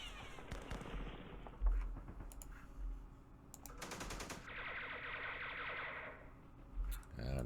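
Battle sounds from the Vietnam war strategy game Campaign Series Vietnam at Khe Sanh village, 1968: sharp clustered gunfire bursts and rattling volleys amid clicks and low booms.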